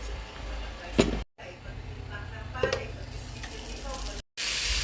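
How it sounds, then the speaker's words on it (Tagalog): Onion and garlic sauté in a hot pan for pork menudo, with a steady close sizzle and a couple of stirring scrapes, broken by two brief silent gaps. "Igisa na natin ang sibuyas at bawang."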